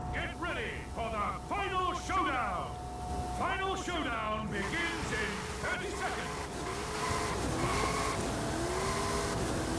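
Race cars competing in the video game Forza Horizon 5, a continuous engine drone with rising and falling revs and gear changes while someone talks over it.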